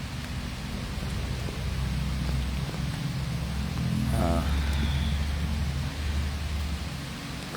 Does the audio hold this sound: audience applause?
no